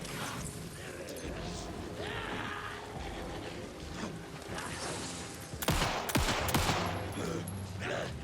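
Gunfire in Alan Wake 2 crackles through a busy, noisy scene, with a tight cluster of louder, sharp shots near the end.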